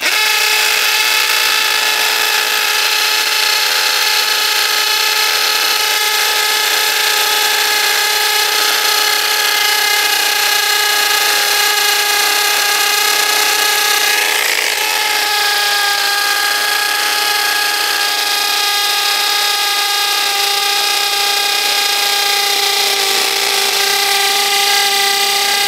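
A Premier HL 818 cordless brushless impact drill in impact mode at speed setting 2 bores into a concrete curb, a loud, steady whining hammer drone that runs without a break and shifts pitch slightly partway through.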